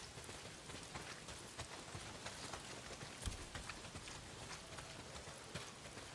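Heavy rain pouring steadily in the video game Days Gone, a dense, even hiss of drops with scattered louder patters and a brief thud.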